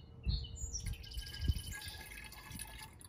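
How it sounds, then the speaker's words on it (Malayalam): Homemade grape wine is poured into a bottle, a faint close trickle and dripping of liquid with birds chirping in the background and no talk. "അപ്പം നമുക്ക് കുപ്പിയിലോട്ട് ഒഴിക്കുകയാണേ."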